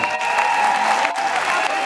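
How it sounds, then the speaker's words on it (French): An audience at a Gabonese presidential campaign headquarters rises to applaud journalists, a loud continuous wash of clapping and crowd noise with a steady tonal hum running beneath it. "je vous demande de vous lever et de les applaudir"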